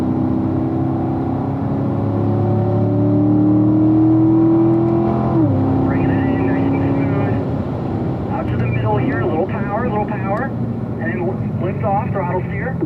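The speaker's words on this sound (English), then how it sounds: "Power out to that white line, Jim." A Corvette engine revs and accelerates on a race track at the Ron Fellows Performance Corvette Driving School at Spring Mountain Motorsports, a loud, close, rising drone that dips once at a shift and continues under a driving instructor's talk.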